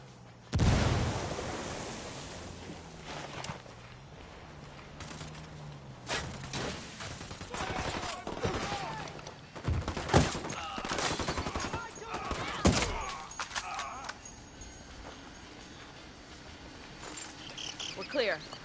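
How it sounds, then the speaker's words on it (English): Gunfire in the Ghost Recon video game, with scattered shots and rapid bursts throughout over a constant insect-like chirping background, and voices talking now and then. "I'm shooting these fuckers"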